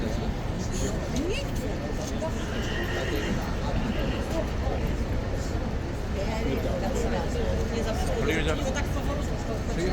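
One of the King's horses neighs amid a busy, noisy outdoor scene, with hoof clatter and background voices mixed in.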